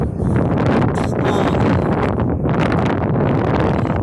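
Strong wind buffets the microphone in steady, loud gusts, a continuous low roar with rustling texture and no voices.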